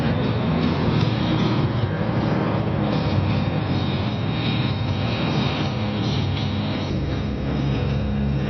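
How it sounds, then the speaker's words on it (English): Chinook, Apache and Black Hawk military helicopters pass overhead in a flyover, a steady loud wash of rotor and engine noise that holds across the whole stretch with no talking. "Leading the charge was the double-rotor CH-47 Chinook heavy lifter, flanked by lethal AH-64 Apache attack helicopters"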